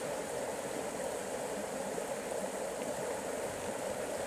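Water of Jackson's Creek in Organ Pipes National Park flows steadily over rocks in a continuous, moderately loud rush with no breaks and no voices.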